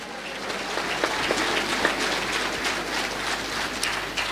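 A church congregation claps steadily and fairly loudly, a dense even wash of applause with occasional sharper claps and almost no talk.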